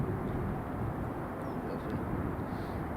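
EasyJet airplane at Edinburgh Airport, a steady broad roar of jet engines held at an even level throughout, distant and unbroken.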